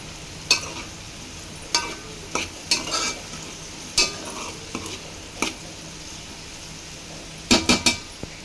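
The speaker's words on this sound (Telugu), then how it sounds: "ఆనియన్స్ కూడా వేసేసుకొని మొత్తం ఒకసారి కలుపుకుందాం" Bitter gourd pieces and onions are stirred in a pan, with repeated sharp clinks and scrapes of a spoon against the metal over a light sizzle.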